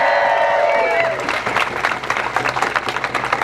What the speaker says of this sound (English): let's give a cheer for that